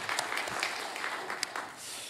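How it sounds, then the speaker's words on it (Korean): Church congregation applauding during a worship service, a short, moderately quiet burst of mixed clapping from the gathered members with a few crisp individual claps. "다시 한번 우리 하나님 앞에 크게 박수로 영광을 함께 돌리겠습니다"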